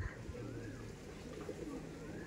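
Madras pigeons cooing in a loft, low soft coos repeating close by over a steady background murmur.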